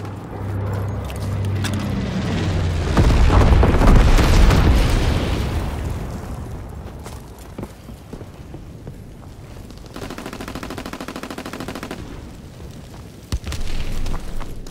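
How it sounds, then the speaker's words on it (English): Incendiary bombs dropped by a low-altitude bomber in the WWII shooter game Call of Duty: WWII, heard as a rolling explosive rumble building into heavy booms, followed by gunfire crackle, a rattling burst and scattered sharp shots. "Low altitude bomber inbound. Dropping incendiary."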